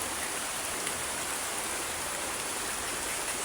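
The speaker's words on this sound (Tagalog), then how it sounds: "inabutan ako ng ulan." Steady rain pours down in a dense, even hiss, pattering on surfaces nearby without pause.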